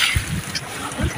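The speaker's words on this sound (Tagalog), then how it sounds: "Alon mga idol." Sea waves slap and rush around a small boat off an island near Canipo, Palawan, with low thumping swells and wind noise in short uneven surges.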